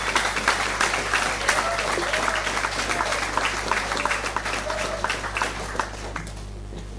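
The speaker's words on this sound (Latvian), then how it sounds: "Aplaus, dāmas un kungi!" Sustained applause from an audience at the Miss & Misters Ogre 2015 pageant, dense steady clapping for about six seconds before fading out abruptly near the end.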